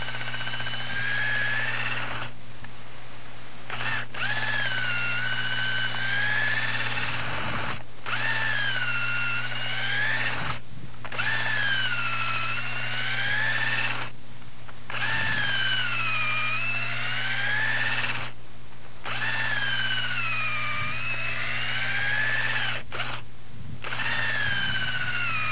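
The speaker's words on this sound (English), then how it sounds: "Now, we'll finish drilling our holes out." A power drill bores holes in green-wood log furniture parts, whining loudly in long bursts with brief pauses between holes, its pitch sagging and recovering as the bit bites, with no talk.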